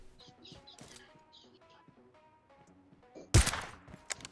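Quiet electronic sounds and music tones from PUBG Mobile Lite play, then a sudden loud burst of gunfire cracks out near the end, followed by fainter impacts.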